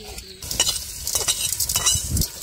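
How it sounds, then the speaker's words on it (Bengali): Soaked dal fries in hot white oil with bay leaf, dried chilli and cumin, crackling and sizzling close by while a utensil scrapes and stirs in quick, uneven strokes. "ভিজিয়ে রাখা ডালটিকে এখন এটাতেই ভেজে নেব"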